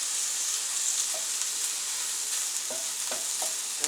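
Shrimp sizzle steadily in a hot pan for shrimp fried rice, a constant bright frying hiss with a few soft clinks and stirring scrapes, close and without talk.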